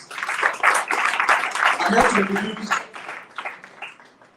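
An audience applauds volunteer mentors at a community outreach event, steady clapping running throughout with a voice speaking over it.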